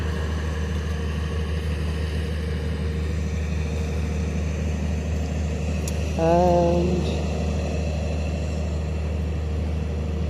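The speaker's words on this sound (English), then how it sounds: "that noise you hear in the background is a little work going on over there. I think they're doing a little dredging or something." Low steady machinery rumble from dredging work near a dock at the north end of New Smyrna Beach, droning continuously in the background, with a brief louder tonal engine-like swell midway.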